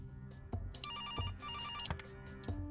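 A telephone rings in the Kathy Rain point-and-click video game, a repeating electronic ring tone in several distinct bursts, loud and clear with no talking over it.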